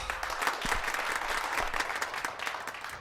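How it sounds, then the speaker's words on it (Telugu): A group of people clapping together in a movie scene, steady dense applause running throughout without a break, with faint talk underneath. "వాళ్ళందరూ చప్పట్లు కొడుతున్నారు"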